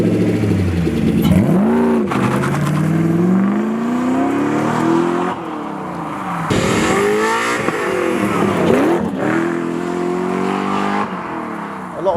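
A Ford Sierra Mk2 three-door fitted with a Lexus LS 400 1UZ-FE V8 drives hard, its engine loud and close, rising and falling through repeated revs and gear changes with the pitch sweeping up each time, and no talking.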